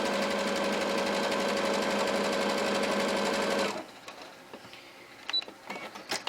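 A sewing machine runs fast and steady along a hoodie shoulder seam for several seconds, then stops abruptly, followed by quiet handling clicks and rustles.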